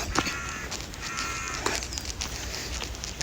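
Harsh crows cawing repeatedly outdoors near a river and parking lot in Japan in autumn, several rough calls over steady wind and ambient noise.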